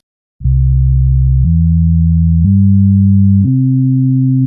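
A pure sub-bass synthesizer tone plays back in GrooveWire as four sustained notes, each about a second long and stepping upward in pitch, loud and clean with nothing else.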